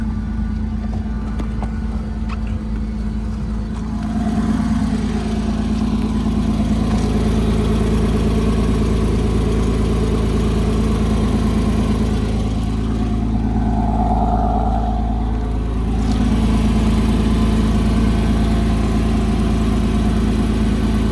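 A cold 2006 Porsche Boxster S with a six-speed manual idles outdoors, a steady low engine hum with a faint throttle blip around the middle, heard close and alone without talk.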